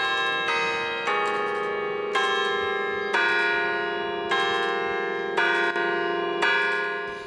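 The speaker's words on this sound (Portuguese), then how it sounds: "A melodia dos sinos anuncia a Padroeira do Brasil." Church bells of the Aparecida shrine in Brazil ring out in a slow melodic sequence for the feast of Our Lady of Aparecida, each strike bright and resonant, overlapping as they decay, with no voices.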